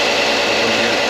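Sander running steadily while a driftwood and imitation ivory pen is being made, a loud, dense whirring drone that fills the short moment without a break.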